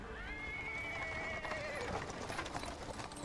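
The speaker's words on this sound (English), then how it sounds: "He's interrupted by the sound of wheels rolling on the paving stones." A horse-drawn cart with a small horse rolls over paving stones in the fantasy game Pathfinder WotR, its wheels clattering steadily as a horse whinnies clearly near the start.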